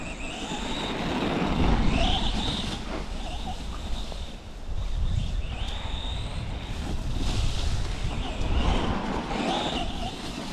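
Strong, gusty wind roars steadily, buffeting the microphone in loud surges with brief lulls between gusts.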